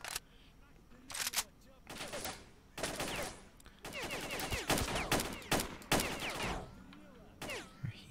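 Enemy gunfire in S.T.A.L.K.E.R., repeated loud shots in irregular clusters and rapid volleys, close and crackling, with scattered clicks between them.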